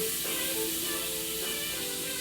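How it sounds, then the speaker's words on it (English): A steady, close hiss of butter sizzling a little too high in a hot pan for Spanish omelette, continuous and even throughout, with no talking. "It feels like it's sizzling a little bit too high"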